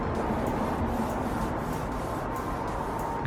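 A clay pad rubs steadily across the painted hood of a Spoon Sports Honda NSX, making a continuous soft, faint scraping hiss, close up and alone.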